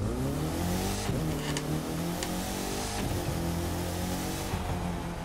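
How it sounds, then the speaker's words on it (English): Car in The Crew 2 video game revving hard and accelerating, loud engine climbing in pitch through repeated gear shifts, steady and close with no talk. "This car takes off."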